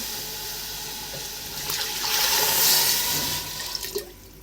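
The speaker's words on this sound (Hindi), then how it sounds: "पानी ऐड करूँगी।" Water pours steadily into a pressure cooker holding goat mutton for aloo gosht, a soft, continuous splashing stream that swells in the middle and tapers off at the end, alone without talk.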